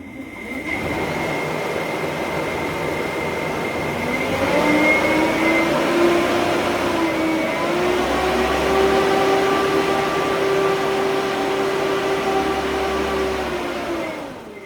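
A massive dual electric ducted fan on a test run at 48 volts gives a loud, steady whining roar, its tone sliding upward midway and holding before easing off at the end.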